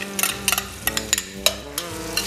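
Onions and garlic sweating in a pan for a quick pasta sauce, a steady soft sizzle with clinking taps of a utensil stirring against the pan.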